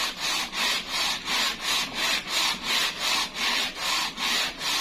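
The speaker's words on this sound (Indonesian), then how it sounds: "silakan di amplas-amplas lagi ya, di losok lagi seperti ini" A warped motorcycle cylinder head is sanded flat by hand on abrasive paper in steady, evenly spaced back-and-forth strokes, a loud rhythmic rasping of about nine passes, close up and with no speech.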